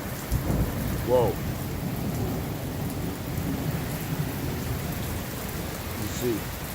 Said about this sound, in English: It's pouring bad, big time.